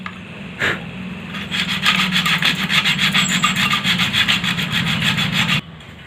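Emery sheet rubbed by hand over a bike engine part, cleaning it during a starting-problem repair: a steady, close, rhythmic scraping of quick back-and-forth strokes that runs for about five seconds and then stops abruptly, with no talking.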